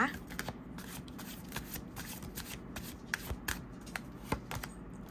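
Tarot cards being shuffled by hand, a steady run of crisp riffling and slapping card sounds close up, with soft talk underneath.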